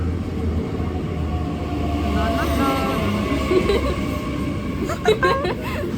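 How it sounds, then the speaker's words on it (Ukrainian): A train pulls out of a station on a dark late-afternoon winter evening, giving a steady low rumble and rolling clatter that carries on throughout, with faint muffled voices nearby. "Поїхав наш другий потяг."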